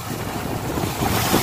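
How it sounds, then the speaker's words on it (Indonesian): Ocean waves and strong wind along the West Java coast at dusk, a loud continuous roar of surf with gusting wind buffeting the microphone and no voices. "air bergelombang menyaut ke daratan"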